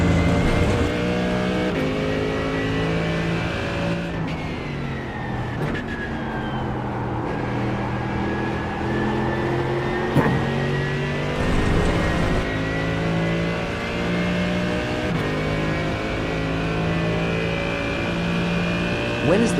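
Race car engine at full throttle in a sim racing game, loud continuous howl climbing through gears with a brief dip around a corner, then sustained high revs.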